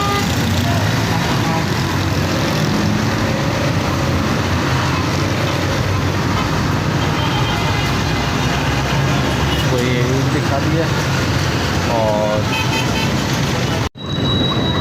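Heavy evening traffic roars continuously at Korangi Crossing in Karachi. Cars, buses and trucks rumble past with scattered horn toots, and someone talks over the din.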